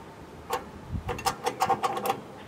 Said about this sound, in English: I went to spark up the barbecue for dinner